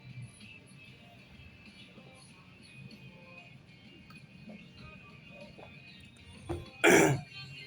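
A person coughs and clears their throat with a loud, close burst near the end, after quiet background sounds.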